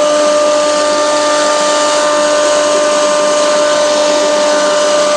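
A 3 HP single-phase, double-chamber flour mill pulverizer grinds wheat with a loud, constant mechanical whine and roar, steady and close with no pauses.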